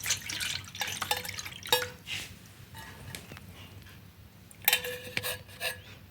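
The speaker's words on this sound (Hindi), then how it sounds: "तो एक बर्तन में छलनी डाल के इसे छान लीजिए।" Melted jaggery water poured through a metal sieve into a pot gives close, uneven drips and splashes with light scraping and rubbing against the mesh, irregular and fairly quiet, without talking.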